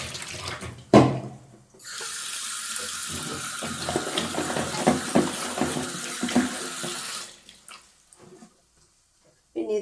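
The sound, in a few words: washing food in running water at sink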